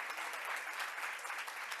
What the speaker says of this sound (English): we can give a huge round of applause to Cielo